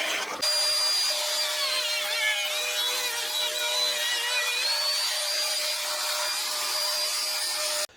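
A steady, high-pitched drill whirs continuously for several seconds, grinding through wood with a constant tone, then stops abruptly, while building a Telecaster-style guitar.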